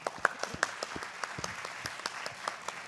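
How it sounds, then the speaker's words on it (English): Scattered applause from a lecture audience at a hepatology medical conference, individual claps distinct and sparse rather than a dense roar, moderately quiet and fairly close. "But I would like all of you to have another round of applause for Mark."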